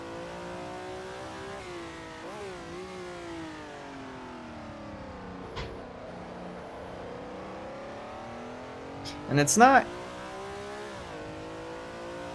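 A Ferrari 330 P4 race car engine hums steadily while driving, with harmonic tones rising and falling through gear changes and a brief louder burst of revving near the end, under faint talk.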